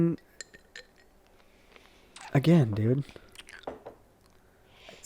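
Ice cubes clink and crunch as someone chews them at close range, in one loud burst of chewing and rattling, with someone talking briefly around it.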